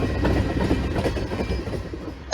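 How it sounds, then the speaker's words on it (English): A switcher locomotive and its train roll along the rails with a steady rumbling clatter and rhythmic wheel clicks, close by, ending in a sudden loud burst. "you got a unique locomotive cool in that, It's a switcher, Chris."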